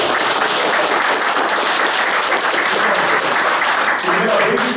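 An audience at a dialogue event gives the speaker Ricardo a dense, sustained round of applause, many hands clapping together without a break, with no talking.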